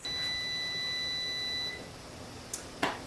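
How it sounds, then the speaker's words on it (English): A kitchen timer marking the end of water-bath canning for jars of maple bourbon pecan pie sounds a steady, high electronic tone for under two seconds, then cuts off, followed by a couple of faint clicks and a brief clatter. "There's my timer."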